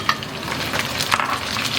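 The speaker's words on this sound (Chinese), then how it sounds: "然后煎，把这些香料给它煎香。" Aromatics and Sichuan peppercorns fry over medium-high heat in a wok alongside browned chicken, a loud, close, crackling sizzle with bursts of popping and stirring scrapes.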